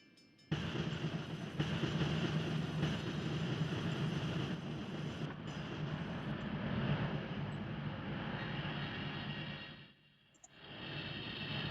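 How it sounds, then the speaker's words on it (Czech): A train rolls downhill on its own, slowing as it coasts, in the Trainz 2004 railway simulator: a steady, loud rumble of wheels and carriages that starts abruptly, runs continuously, dips briefly near the end, then resumes. "Teďka náš vlak zrovna samovolně jezdí a snižuje se mu rychlost."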